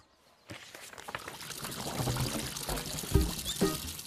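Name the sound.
water filling a bathtub, cartoon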